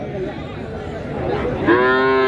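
At a cattle market in Kerek, a Limousin-type cow bellows a loud, close moo near the end, following a low background of crowd chatter.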